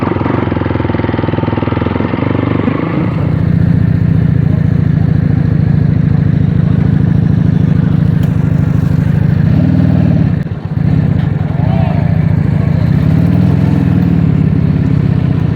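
Pi Moto motorcycle engine running off-road in an oil palm plantation, a loud close, continuous rough drone, rising in pitch after a few seconds and holding steady, with a brief dip near the end.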